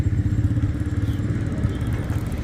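A motorcycle idles with a low, steady engine rumble, punctuated by faint clattering and thuds as it is pushed aside, nearby and continuous throughout.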